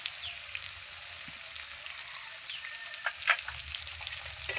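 Potatoes with salt and turmeric frying in a pan, a steady bright sizzle heard close, with a few faint clinks and scrapes of stirring and no voices.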